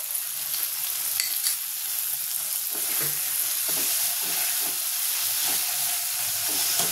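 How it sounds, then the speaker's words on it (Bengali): Green chilli sauce goes into a hot pan of egg chilli, bringing a steady close sizzle with a run of rhythmic stirring scrapes and clinks, and no voices. "দিয়ে দেবো গ্রিন চিলি সসটা"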